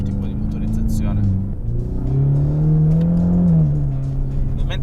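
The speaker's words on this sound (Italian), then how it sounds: "questo motore non prende giri come il botto, un po' più lento a salire di giri" Ford Mustang EcoBoost four-cylinder engine climbing slowly through the revs from inside the car, a loud steady drone whose pitch drops once at a gear change, with someone talking over it.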